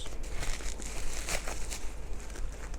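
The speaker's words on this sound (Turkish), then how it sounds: "ağzını açınca poşet sesi yapalım şöyle" Close crinkling and rustling of a plastic bag around a publisher's book package, continuous irregular crackles lasting a few seconds with no voices.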